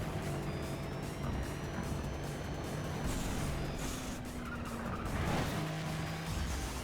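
A car pushed hard in the racing game Soapbox Race World: a steady engine roar with rising and falling revs and bursts of tire squeal and skidding, loud and continuous with no talking.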